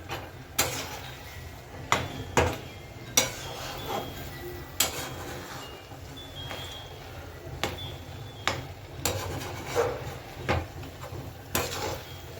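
Cashew and almond powder is stirred into sweet vermicelli, with a spoon knocking against the pot in irregular, clicky taps over a low room background, close and with no talking.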